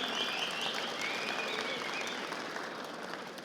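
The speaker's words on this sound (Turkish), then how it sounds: "Büyük bir alkışla efendim." Steady crowd applause at an auction held at the Konya agricultural fair, sustained and moderately distant, slowly fading over a few seconds.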